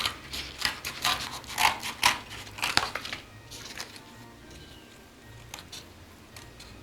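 Scissors cutting the sole of a boot-shaped Christmas craft piece, a run of close crisp snips and rubbing crunches in the first half that thins to faint scattered clicks, with no talk.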